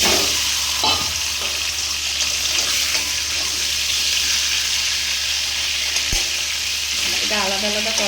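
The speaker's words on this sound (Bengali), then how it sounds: "প্রথমে না আমি একটু পনিরগুলো ভেজে নেবো।" Paneer pieces frying in oil in a kadai, giving a continuous loud, close sizzle with occasional stirring clatter and scraping throughout, no voices.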